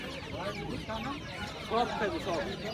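Chickens clucking at a busy bird, pigeon and chicken market, several birds close by with short rising calls over a murmur of crowd voices.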